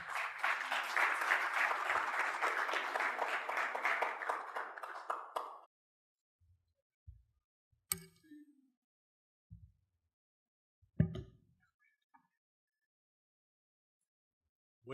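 An audience at a sports forum in Panama applauds a speaker called to the stage, with steady, dense clapping for about five seconds that stops abruptly and is followed by near silence with a few faint knocks.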